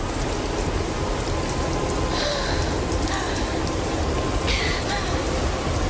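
Heavy rain pours steadily with a broad, constant rushing noise, loud and unbroken, suggesting wind-driven rain.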